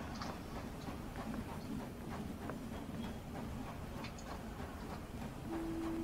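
A train in a Wild West video game rolls along with steady rhythmic clattering of wheels over the rails, a continuous mid-level rumble with faint ticking, and a brief tone near the end.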